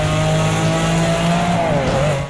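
An early single-mirror Ferrari Testarossa engine holds a loud, close, sustained note with a steady pitch that dips briefly near the end.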